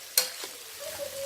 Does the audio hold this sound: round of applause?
no